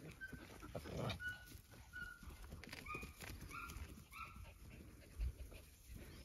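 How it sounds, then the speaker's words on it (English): Several dogs scuffle as a pack picks on one young dog, with short high whimpers and yelps over shuffling paws and thumps, fairly faint and close, in a busy, restless jumble. "The other dogs are picking on him."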